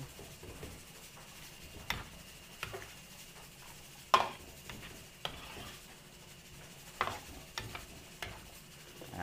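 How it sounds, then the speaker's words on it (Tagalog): A spoon scrapes and taps against a cooking pot as liver spread is stirred into a Filipino goat dish for a fiesta. The sharp clicks are spaced out and quiet over a faint background hiss, with no talking. "At pag napasobra itong liver spread ay pangit din. Haluin lang po natin."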